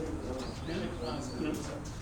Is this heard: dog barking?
no